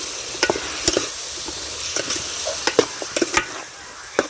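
A spoon stirs brinjal curry with garam masala in a pan, giving repeated sharp scraping clinks at an uneven rhythm over a steady low sizzle, close and clear, with no talk.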